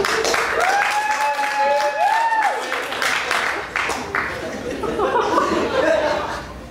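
Audience applause mixed with chuckling and chatter during a handshake contest, as the crowd judges the best handshake; a broad wash of clapping and laughter with a voice audible over it.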